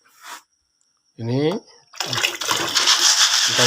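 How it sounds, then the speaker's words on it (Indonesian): Soybeans being washed and soaked in water, with a gentle splash and pour of water swelling into a steady wash after a brief voiced sound, close and fairly loud. "sekarang kita bersihkan dulu dan kemudian kita rendam"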